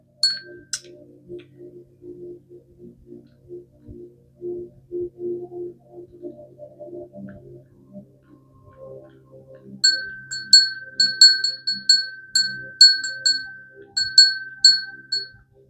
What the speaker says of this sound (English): I'm not moving the bell or anything, just a clapper with my energy.